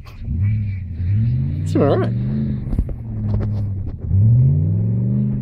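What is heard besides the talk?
car engine revving during a burnout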